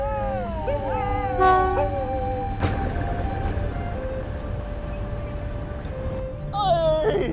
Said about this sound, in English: And out of the blue comes that daily train.